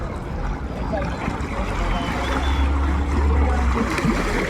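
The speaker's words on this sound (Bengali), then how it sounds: "ঢেউটা কেমন দিচ্ছে বোটগুলো যেহেতু ধারে আসছে ঢেউ দিচ্ছে" Boats passing close along the bank of a large river, their wake sending waves lapping in a steady wash over a low engine rumble, with no talk.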